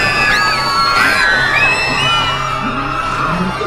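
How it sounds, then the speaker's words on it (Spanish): Many voices screaming and wailing in lament and pain along a street, loud, overlapping and sustained, with rising and falling shrieks echoing over a dense crowd-like roar. "Los gritos de lamento y dolor resonaron por toda la calle"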